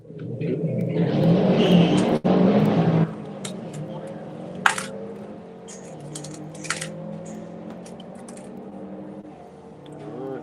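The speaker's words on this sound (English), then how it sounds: "Meanwhile, on the start line, our Mustang and a Subaru Impreza." Ford Mustang and Subaru Impreza engines rev on a drag strip start line at a run-what-you-brung day, loud and close for about three seconds, then settling to a steady idle rumble with scattered clicks and distant voices.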